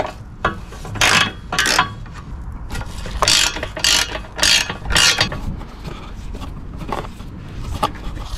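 A ratchet turns a bolt reached through an access hole behind removed foam on a Smart Fortwo 451 during air conditioning condenser replacement, giving repeated close bursts of clicking strokes with short pauses between them.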